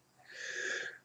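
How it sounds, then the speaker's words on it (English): A single sneeze indoors, close and fairly quiet, with a breathy wheezing burst lasting about a second, alone and with no talking. "every once in a while you're going to probably get a video of me sneezing"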